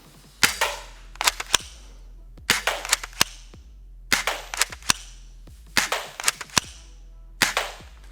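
An S1897 toy blaster shotgun fires five sharp, close shots through a chronograph, each crack followed by quick mechanical pump clicks in a steady rhythm.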